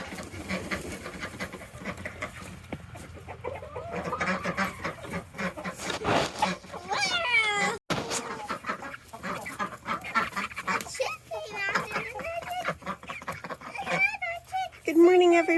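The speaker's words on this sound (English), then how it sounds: "Good morning, chickens and ducks." Farmyard ducks and chickens quack and cluck in a steady, moderately close chorus on a cold morning, with squawks and calls overlapping throughout and some rustling mixed in.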